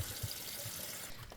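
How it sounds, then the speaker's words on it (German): Running tap water pours steadily over a leek being washed in a sink, with a continuous hiss and soft splashes, moderately close and without talk. "dann wasche den Teil, wo sich Erde befinden kann, noch gründlich aus"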